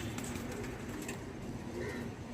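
Several pigeons coo softly in a low, steady murmur, with faint bird chatter layered over a constant background hum; no talking.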